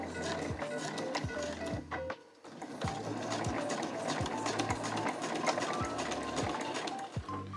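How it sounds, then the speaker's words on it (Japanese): A sewing machine backstitches across the zipper opening of a small trunk-style key case made from fabric scraps, producing steady rhythmic stitching pulses, close and fairly loud, with a brief stop around two seconds before it runs on. "ここもしっかり返し縫い入れておきます"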